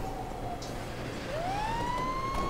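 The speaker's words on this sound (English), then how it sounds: "I could hear like a siren outside right now, too." A wailing siren sweeps up and down over a steady engine rumble in the GTA 5 firefighter mod, moderately loud with no talking.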